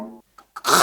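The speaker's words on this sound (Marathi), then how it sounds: "मी खाकरलो." A man clears his throat in a comedy sketch, giving a short voiced hum followed by a brief gap, small catches and a final harsh, breathy rasp, close and alone.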